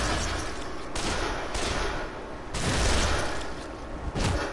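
Dense gunfire from a gun in the video game Dead Island, a steady barrage of loud shots with sharper bursts standing out, no voices over it.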